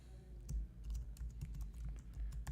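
Quick, light keystrokes patter on a computer keyboard as a folder name is typed, close and fairly quiet with uneven rhythm.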